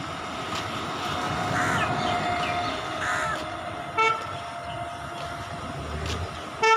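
Outdoors near a lake in New Town, crows caw repeatedly amid a busy soundscape of birds, with a train's horn tooting briefly and rail noise rumbling in the background, and no one speaking.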